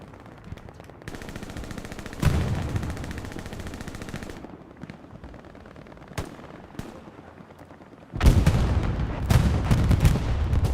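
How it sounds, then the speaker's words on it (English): Heavy artillery barrage in the WWII shooter Hell Let Loose on the Stalingrad map, booming impacts and rumbling blasts over steady automatic gunfire, swelling to a loud, dense cluster of explosions near the end. "big artillery strike taking out a bulk of Helios Inf"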